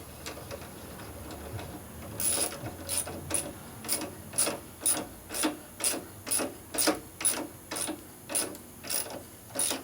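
A hand tap cuts thread into a hole in a 1965 Harley-Davidson panhead 74ci FLH motor part, giving a steady series of about fifteen crisp metallic clicking ratchet strokes at an even rhythm, close and clear with no talking.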